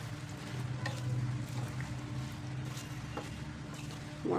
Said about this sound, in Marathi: आता ह्याला लो फ्लेमवरती आपल्याला असं झाकून ठेवायचे सारखं मधून मधून हलवत राहायचे